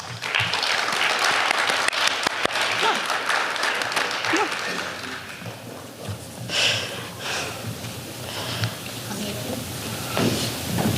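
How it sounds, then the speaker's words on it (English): Audience applause at a 2022 student awards ceremony, steady clapping that thins out after a few seconds, followed by scattered sniffs, shuffling and a voice nearby. "please give a round of applause for these wonderful individuals"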